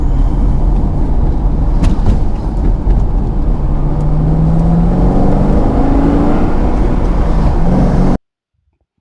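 A stock C6 Corvette lapping the VIR race track gives a loud, close, continuous engine drone whose pitch climbs and sweeps as it accelerates, with no talk, ending abruptly.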